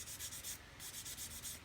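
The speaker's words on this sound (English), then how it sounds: "Infinity Matador sanding stick again and just remove" An Infinity Matador sanding stick scrubs the seam line on a plastic model kit part in quick, steady back-and-forth strokes, close up and dry, with no voices.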